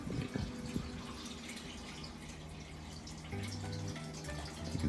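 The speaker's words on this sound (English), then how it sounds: "if I can lift it in angle, the water go out faster." Water runs and drips out of a tilted hydroponic pipe in a week-old system, a steady close trickle that swells louder partway through, with no talk.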